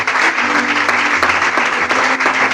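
A church congregation applauds and acclaims the Lord in steady, dense clapping with cheering voices mixed in, loud and close throughout.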